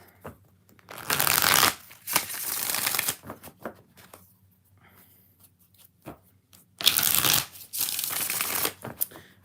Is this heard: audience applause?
no